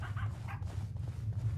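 Dogs in the horror game Pacify, a few short yips and barks up front followed by softer whimpering over a constant low rumble, fairly close and somewhat muffled.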